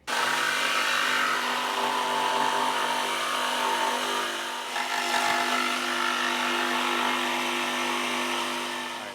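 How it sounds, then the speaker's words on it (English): Jigsaw making vertical cuts in tongue and groove siding: a loud, close, buzzing reciprocating blade running steadily with a brief dip midway, with no talk. "I'm going to use a jigsaw to make our vertical cuts, stopping at our line"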